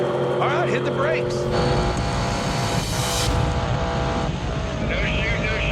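Drag race car braking hard at the end of the strip, its parachute snapping off, with continuous loud engine and tire roar mixed with engine tones and background voices.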